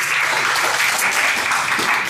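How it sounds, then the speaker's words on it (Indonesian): Audience applause at a talk or study gathering, steady and fairly loud continuous clapping from a crowd throughout the brief moment. "jadi tepuk tangan dulu buat Kohen."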